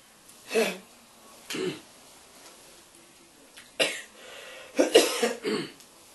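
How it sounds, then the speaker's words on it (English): Several harsh coughs and a throat clear come in scattered bursts, fairly close, with quiet pauses between them. "I got this cough."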